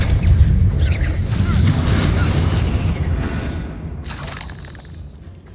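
Confringo and Bombarda explosion spells in Hogwarts Legacy, deep rumbling blasts with crackling debris that fade over several seconds, followed by a bright, sharp burst near the end.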